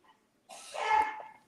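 One short sneeze, a soft intake followed by a breathy burst that swells and fades over about a second, fairly quiet and close, with no talk during it.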